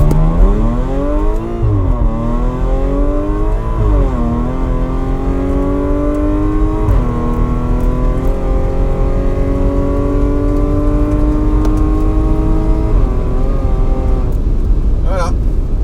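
Tuned ethanol-fuelled stage 3 Audi S5 of about 530 hp pulling hard from 0 to 200 km/h, engine note climbing steeply through several gears with brief dips at each shift, loud and sustained from inside the car.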